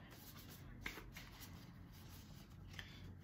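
Oversized tarot cards being shuffled by hand, a soft continuous papery riffle and slide close by, with a couple of brief sharper flicks and no talking.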